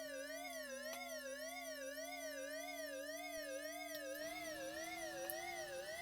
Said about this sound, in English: Now that siren sound, that's the best thing I've heard in this game